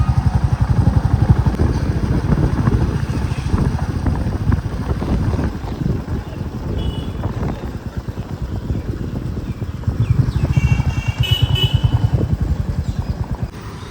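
A motorcycle at the IIT Kharagpur entry gate, its engine running with a steady putter that rises and falls, close and fairly loud, mixed with wind buffeting the microphone and no talking.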